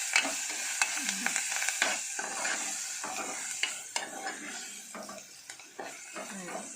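Ginger garlic paste sizzles and fries in a pan while a spoon stirs it, with repeated scraping clinks of utensil on metal over a continuous crackling hiss.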